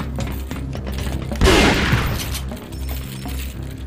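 Shotgun blast in Resident Evil 4, a single loud boom with a broad crack that decays over about a second, set against the game's low ambient music and faint mechanical clicks.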